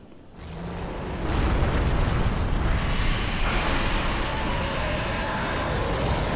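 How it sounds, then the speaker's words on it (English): A dragon in Dark Souls 3 breathes fire from above, a loud sustained roaring rush that swells after a brief quieter moment and stays steady to the end. "He will breathe fire down there."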